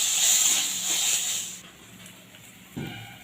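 Ginger, garlic and chili paste fries in a hot pan with a loud, steady broadband hiss that eases after about a second and a half, followed by a short low clatter near the end.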